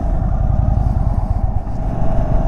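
A 2023 Indian motorcycle on a test ride, its engine giving a loud, close, throbbing low rumble that holds steady with slight rises in throttle, with no talking.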